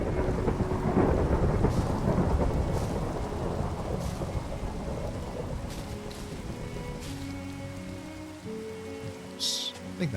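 Minecraft thunderstorm: a heavy rolling thunder rumble fades over several seconds beneath steady rain pattering on surfaces, with a few sharp drip-like clicks near the end.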